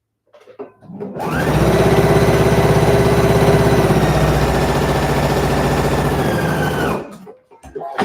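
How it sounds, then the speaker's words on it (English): A sewing machine runs a side seam on a knit lined bodice in one continuous burst of about six seconds, loud and close with a steady rapid needle rhythm, and brief handling noises before and after. "Let's sew the other side seam."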